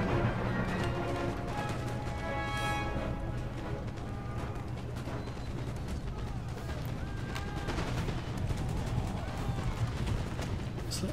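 Musket fire rattles in Empire: Total War as rows of troops shoot, giving a dense, continuous crackle of overlapping shots under a steady battle din, with someone talking over parts of it.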